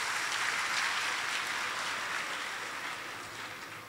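Steady applause from a large audience at a closing ceremony, a dense wash of clapping that holds evenly and slowly fades toward the end, with no voices over it.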